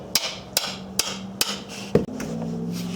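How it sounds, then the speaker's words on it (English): Four sharp metallic clicks at a steady pace, then a louder snap and a low hum, as a 3/8 drive ratchet with a 17 mm socket loosens a transmission plug on a Honda S2000, close and without speech. "You can use a 3/8 drive ratchet and just yank it loose."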